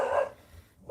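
Dogs barking near a home hobby workshop: a short, fairly loud bark cluster at the start, fading to quiet, with a faint new yelp just at the end.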